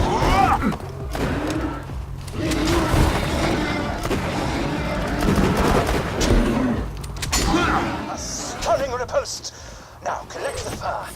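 Grenade explosions and gunfire in the Borderlands 2 video game against bullymongs, a dense run of booms and shots with thuds, mixed under ongoing game talk.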